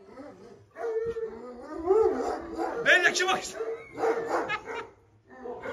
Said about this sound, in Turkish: Şimdi köpek mi var orada?